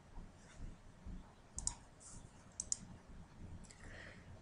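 A computer mouse clicks on an Add button in a software configuration tool: a few sharp, faint clicks spaced about a second apart over quiet background hiss.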